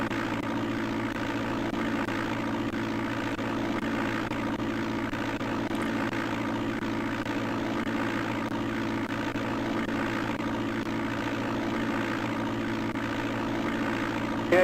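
In the DOS flight game Flight Simulator 5.1, a propeller plane's engine drones in a steady, unbroken hum at an even level throughout, with no other sounds rising above it.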